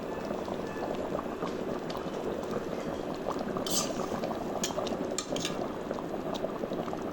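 Tangra fish and yam curry bubbles steadily in an uncovered pot, a dense, continuous simmering hiss with small pops and spits throughout, close and fairly loud, no voices.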